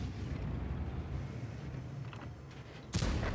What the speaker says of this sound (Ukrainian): даємо постріл по Є5